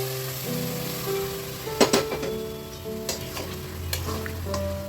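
Boiled ghugni goes into hot oil and spices in a pan and sizzles steadily while it is stirred, with a few scraping clinks of the spoon against the pan, close and fairly quiet.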